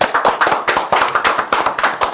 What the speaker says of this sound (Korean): 이때 박수 한번 칠까요?